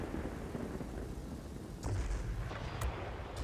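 The guns of a Ta 152 fighter plane in World of Warplanes fire in short, sharp bursts over a constant low engine roar, with a few crisp cracks standing out near the end.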